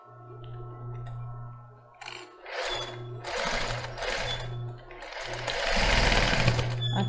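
A sewing machine stitching lace for a basic bra runs in several short bursts of rapid mechanical whirring, separated by brief pauses, close and clear, with soft handling noises between runs.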